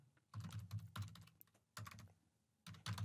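A computer keyboard is typed on in quick bursts while a folder is named in a web workspace app, with clusters of close, crisp key clicks separated by brief pauses and no talking.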